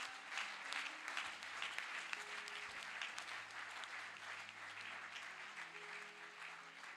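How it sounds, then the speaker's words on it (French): Church congregation clapping steadily in a sustained round of applause during a sermon, dense and even throughout, heard at a distance and fairly faint. "Acclamons très fort le Seigneur."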